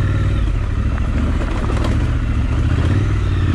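A big motorcycle engine roars loud and close with a dense, continuous rumble and throttle surges, alone without any talk.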